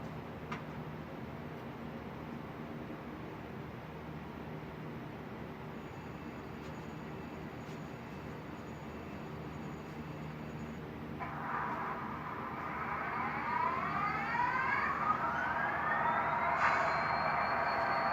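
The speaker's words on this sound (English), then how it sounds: "if I go and power the track on, we're going to hear this locomotive start up" An HO-scale Athearn Genesis SD60E model locomotive with a Tsunami 2 sound decoder starts up on a powered track, building from a low idle hum into rising, whining start-up sounds that grow louder near the end, with no talking.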